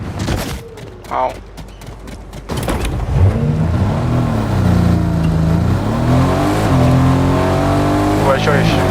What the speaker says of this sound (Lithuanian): Čia yra mašina.